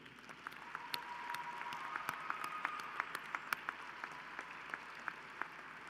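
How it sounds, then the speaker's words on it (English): Applause from an audience at a university ring ceremony, a broad steady patter of clapping hands with a few sharper individual claps standing out over six seconds, moderately distant and fairly soft. "let's give them a round of applause to thank them"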